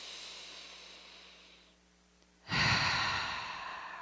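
A deep inhale during a hypopressive breathing exercise, a soft airy exhale fading out, then a sharp, loud, breathy intake close to the microphone.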